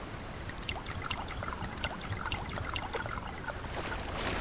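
Water poured and trickling onto plants in the survival video game Subsistence, a continuous splashing, dribbling stream with small droplet spatters, close and fairly steady throughout.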